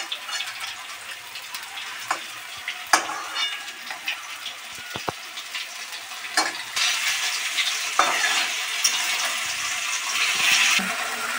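Continuous close sizzling of bottle gourd leaf parcels frying in a pan, with scattered utensil knocks and scrapes and the frying growing louder and busier toward the end.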